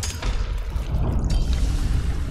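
Water pours and rushes steadily through a video game dungeon, a broad continuous wash with low rumbling, loud and unbroken throughout.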